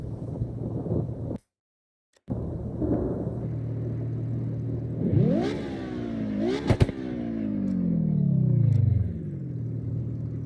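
Car engine in the CarX Drift Racing video game revving and whining up and down through several drifts, steady and fairly loud, with a short silent gap early on and no talking.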